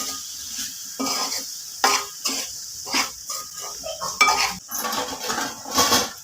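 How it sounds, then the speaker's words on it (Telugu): A spoon stirs chili powder into curry in a pot, producing irregular metallic clinks and scrapes in separate bursts with short quiet gaps, close by. "కారం బాగా కలుపుకుందాం ఫ్రెండ్స్"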